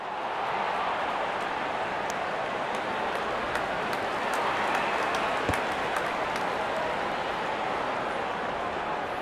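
A stadium crowd in Real Cricket 22 applauds and cheers in a steady, dense roar of clapping and noise that holds evenly throughout, with faint sharp clicks scattered above.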